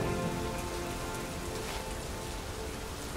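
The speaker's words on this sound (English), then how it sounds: "It's because it's raining" Steady rain patters densely on surfaces in Metal Gear Solid V: The Phantom Pain, a constant close hiss of drops with no talking.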